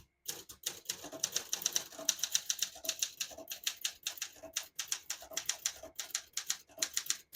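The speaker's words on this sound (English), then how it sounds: "I'll type a sentence in red on the next line and switch from black to red." Keys clack in a quick, steady run on a 1976 Olympia SM9 portable typewriter as a line is typed in red ink, each strike crisp and close with short pauses between word groups.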